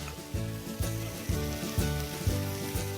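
A cheese-topped burger sizzles on a griddle with a soft, continuous frying hiss beneath a rhythmic beat of background music.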